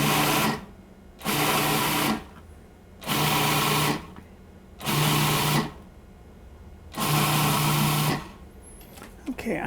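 Food processor ricing cauliflower in five loud whirring bursts of about a second each, separated by short quiet pauses, close and even in level.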